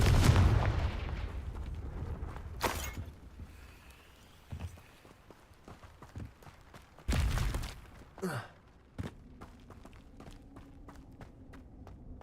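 A Confringo blasting spell is cast in Hogwarts Legacy, followed by sharp bursts and booming impacts with crackling debris, mixed with footsteps and game effects. A loud rush opens, then the blasts come scattered and fade to quieter taps.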